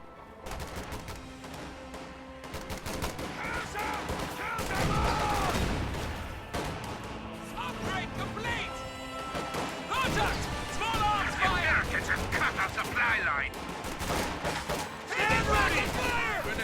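Video-game gunfire as grenadiers engage riflemen inside a building: repeated rifle and machine-gun bursts with sharp impacts and crashes, under continuous commentary.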